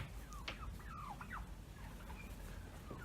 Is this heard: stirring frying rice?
no